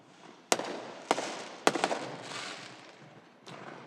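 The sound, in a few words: fireworks going off in the neighborhood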